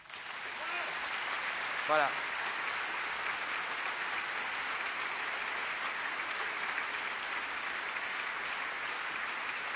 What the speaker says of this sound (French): Je voudrais vraiment que vous applaudissiez très fort.